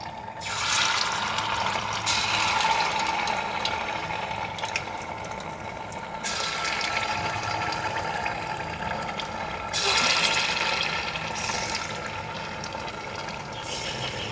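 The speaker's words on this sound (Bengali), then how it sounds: "তেল গরম হয়ে গেছে চুলার ফ্লেমটাকে লো টু মিডিয়ামে রেখে স্ন্যাক্সগুলো ভেজে নিতে হবে" Murmura snacks fry in hot oil over a low-to-medium flame, a steady broadband sizzle and crackle lasting throughout, swelling in louder surges as pieces are added.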